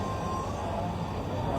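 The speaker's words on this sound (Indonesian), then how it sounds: "Dia lagi depan kereta, rel kereta gitu." A train rumbles past a railway crossing, a dense, steady roar of wheels and engine that fills the whole moment at close range.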